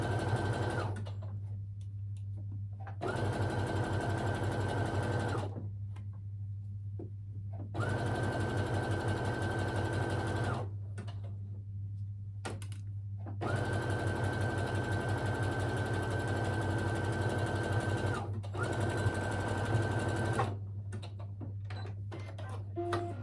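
A sewing machine stitching slowly over a bulky trouser seam, running in several long, steady humming stretches separated by brief pauses, close and clear with no talk.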